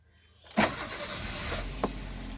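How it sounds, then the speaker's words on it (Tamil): A Maruti Ritz engine cranks and catches after ECM programming, with a sharp start burst followed by a steady idle and a small blip near the end, with no talking. "வண்டி நம்ம ஸ்டார்ட் பண்ணுவோம்"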